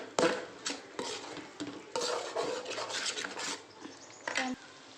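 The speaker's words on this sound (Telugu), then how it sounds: "ఇందులో వచ్చేసి చికెన్ వేసేస్తే ఇప్పుడు" Chicken pieces going into a pot for gongura chicken, with several clattering, scraping knocks of utensils against cookware in an irregular rhythm, loud and close, with no talking.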